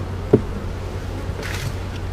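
Honeybees buzz at an open hive during a frame inspection, a steady low drone with a brief louder pass from a single bee close by, then a faint higher whine as another bee flies near.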